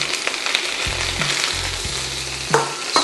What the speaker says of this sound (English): Just gonna give it a stir fry so it doesn't burn at the bottom.